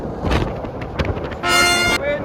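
Strong wind buffets the microphone at Cape Point, with gusty rumbles and bursts of roaring noise, one harsh loud blast near the end, while a person speaks briefly over it.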